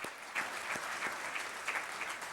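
Audience at an inauguration ceremony for a youth laptop scheme in Pakistan claps steadily, producing a dense, even wash of applause heard at a moderate distance and with no voices over it.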